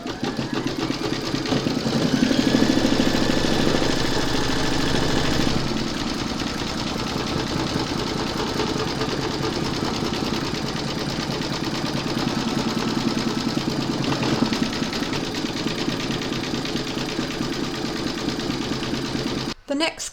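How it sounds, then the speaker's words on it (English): An embroidery machine stitching an owl applique design runs steadily and loudly throughout, a continuous whirring mechanical drone with a slight shift in tone partway, ending abruptly. "I'm now going to pop my hoop into my machine and stitch round number 6."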